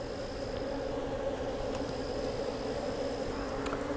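Honey bees buzz steadily around a hive, a dense, continuous hum at moderate level with no gaps and no voices.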